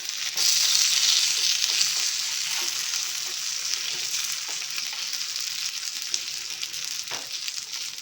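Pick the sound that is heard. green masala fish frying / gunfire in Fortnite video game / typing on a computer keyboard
green masala fish frying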